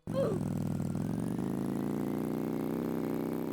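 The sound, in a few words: moped engine in Roblox Bloxburg video game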